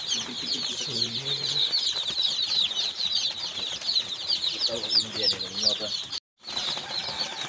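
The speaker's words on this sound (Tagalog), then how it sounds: "Ang manok nandito na." Day-old Dekalb pullet chicks peep in a busy chorus while a few birds cluck and flap their wings nearby, with a brief dropout near the end.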